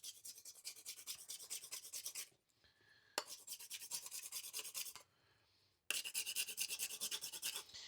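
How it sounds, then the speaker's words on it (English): A hand file rasps rhythmically across a bowling ball finger insert to roughen it, three close bursts of quick scraping strokes separated by short pauses. "I'm just going to file this down for about 30 seconds, just make it rough so the glue will adhere"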